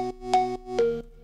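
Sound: synth organ preset pitched up an octave

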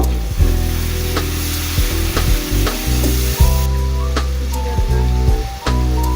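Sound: spices stirred and fried for chicken korma

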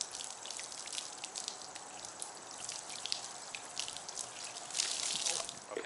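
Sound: water poured from a pitcher onto a car's waxed finish

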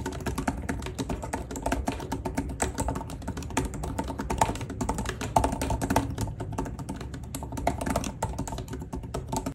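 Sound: typing on tablet detachable keyboard

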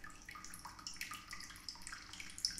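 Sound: toilet flushing in a video game

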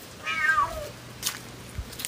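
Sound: kitten meowing

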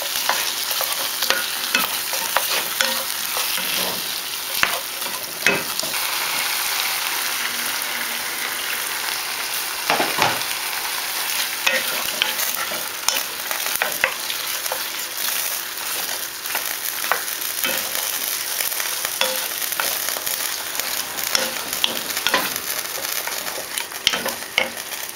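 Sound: stirring sausages with fried onion in a pan

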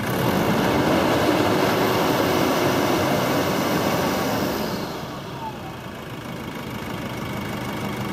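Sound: Nissan Pathfinder 2.5 turbodiesel engine at high revs

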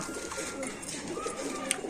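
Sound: pigeons cooing

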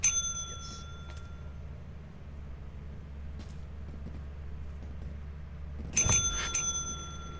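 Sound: bell ringing, from the video game Lethal Company

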